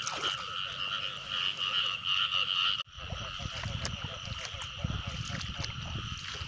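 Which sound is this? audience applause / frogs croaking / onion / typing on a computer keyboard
frogs croaking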